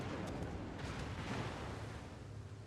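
A World of Warships battleship, the Vermont, ripple-firing its main-gun salvo in a competitive match: a dense, continuous rolling boom with layered low rumble and scattered sharp cracks, loud and sustained throughout.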